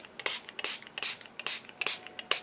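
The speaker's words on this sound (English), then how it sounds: "I'm going to use my spray bottle here, and I'm just going to add" A hand spray bottle mists water onto ink for a card-making craft project, about seven short hissing bursts in an irregular rhythm, close and fairly quiet, with no talking.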